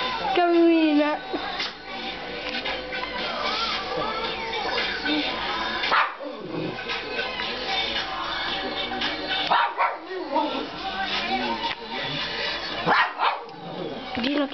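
Gino the dog barks and yips repeatedly, close, mixed with continuous background music and voices throughout.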